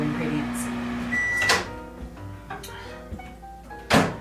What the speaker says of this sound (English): gonna put this into the microwave just to make sure it's a little softer